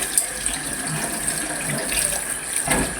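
Tap water runs steadily from a faucet into a sink as raw chicken is rinsed for chicken sinigang, a close, even hiss of flowing water with no talking.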